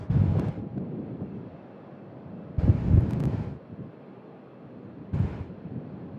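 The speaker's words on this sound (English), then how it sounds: "But that wind's making things very tough" Wind gusting across a microphone at Sydney Airport, heavy low buffeting bursts in three strong gusts separated by quieter rumbling lulls, no talk.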